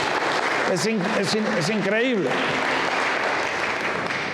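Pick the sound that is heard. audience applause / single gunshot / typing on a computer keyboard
audience applause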